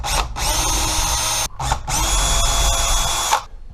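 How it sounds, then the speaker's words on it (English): Power drill pre-drilling holes with a small bit while installing a door sweep: two close, loud whirring bursts of about a second and a half each, separated by a brief pause. "Now using a small bit, we're going to go ahead and pre-drill those holes."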